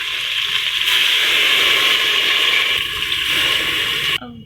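Water pours into a hot pan of browned cauliflower and meat for a quick gobhi gosht, giving a steady, loud hiss and gush that runs for several seconds before cutting off abruptly.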